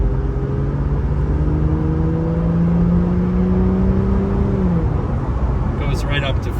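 2003 Aston Martin DB7 accelerating on a chilly road, the engine note rising steadily and strongly from inside the car before dropping sharply at a gear change, followed by a few light clicks.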